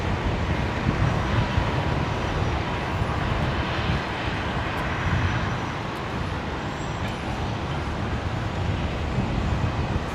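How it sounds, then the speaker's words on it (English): A Jetstar Airbus A321neo touches down at Brisbane Airport after a flight from Melbourne, producing a loud, sustained rumbling jet roar that swells slightly and then eases, with no talking heard. "Just catching the 321 Neo, touching down there."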